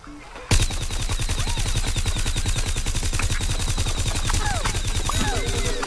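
Rapid automatic gunfire in the video game Plants vs. Zombies: Garden Warfare, loud and steady after an abrupt start, with continuous fast shots and small game effects in the background.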